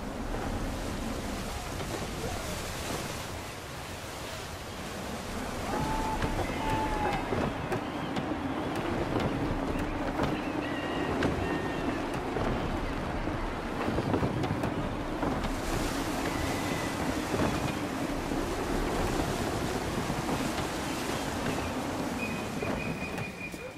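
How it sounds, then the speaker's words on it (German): Wind and ocean waves surround a sailing ship at sea in the Assassin's Creed III Remastered video game, a continuous rushing, surging wash with occasional faint tonal cues, steady and fairly loud with no talking. "Der Wind dreht sich bald."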